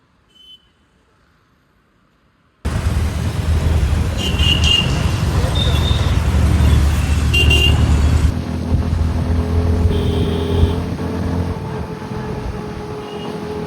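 Road traffic at Chandni Chowk under midday sun: after a quiet start, a loud, steady rumble of engines fills the scene, broken by several short car horn toots.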